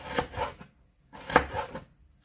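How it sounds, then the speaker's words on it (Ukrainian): A kitchen knife cutting celery root into very thin slices on a board, producing two short clusters of soft, quick crunching strokes, close and quiet. "корінь селери. Я зовсім небагато, так тоненькими-тоненькими-тоненькими слайсиками"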